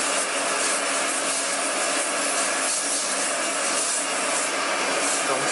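Continuous, even scratchy rubbing of sanding on a wooden tobacco pipe, close up and steady in loudness throughout.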